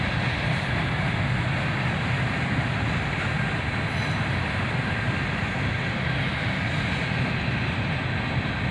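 A CSX freight train, a long string of boxcars on a southbound manifest, rumbles past at a distance as a steady, continuous roar with no breaks.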